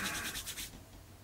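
Beard balm rubbed between two palms, a short close soft scratchy friction that fades out after a moment, with no voices.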